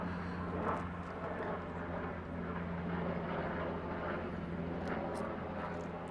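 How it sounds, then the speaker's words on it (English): A helicopter flies overhead, its steady, loud rotor and engine drone filling the whole stretch without a break and with no talk over it. "It means an airplane is flying overhead, causing lots of noise. Helicopter, not an airplane."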